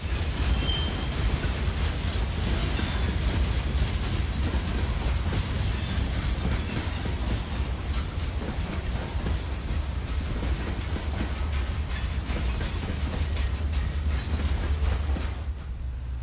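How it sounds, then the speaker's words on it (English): A loaded hopper freight train grinding uphill through downtown Cordele, its heavy cars crossing diamond joints with a continuous low rumble and rolling clatter, steady and fairly close for the whole stretch. "hopper loaded train uphill into and through downtown Cordele"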